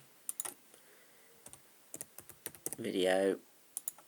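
Keys clack on a computer keyboard as a blog title is typed, a dozen or so sharp, close clicks in uneven bursts, with a short stretch of talking partway through.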